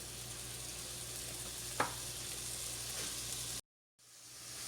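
Onions sizzle in hot oil in a pan, a steady close hiss with a brief stir clatter, cutting off to silence near the end before the sizzle returns.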